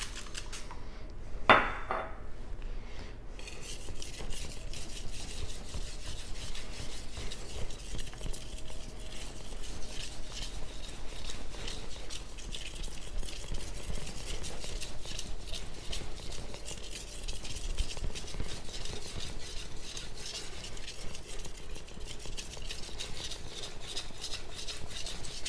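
A knife is drawn back and forth across a Suehiro whetstone with light pressure, a faint continuous grinding rasp in steady strokes, with one sharp clink near the start.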